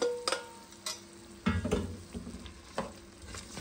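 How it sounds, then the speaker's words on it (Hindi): Boiled lentils tipped into a frying pan and stirred while Indian food is being cooked for an idli meal: a soft sizzle runs through the clip, with several scraping stirring strokes and clinks that come close and clear. "1 मिनट भून लिया है, अब ये दाल डाल देते हैं"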